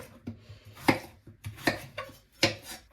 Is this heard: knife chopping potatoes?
yes